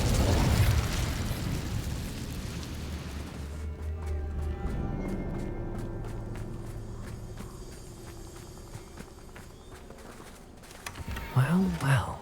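The Incendio fire spell in the Hogwarts Legacy video game lands as a booming burst, followed by softer crackling effects and a second flaring pop near the end, with voices mixed in.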